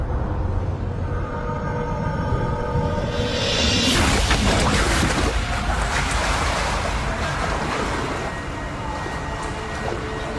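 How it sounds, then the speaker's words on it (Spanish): Simulated 3-metre typhoon waves churn in a wave simulator tank recreating Osaka Bay, a loud continuous rushing of water with a heavy surge crashing in partway through and a steady roar after it. "El simulador recrea olas de 3 metros que son bastante comunes cuando un tifón azota la bahía de Osaka"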